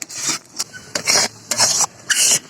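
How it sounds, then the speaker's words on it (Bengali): Tomato juice being stirred and scraped in a pan as it cooks down into tomato sauce, heard as a series of rhythmic raspy strokes with short pauses between them, close and fairly loud, with no talking. "এই জুসটাকে নেড়ে সেড়ে টানিয়ে নিই জাল করতে করতে"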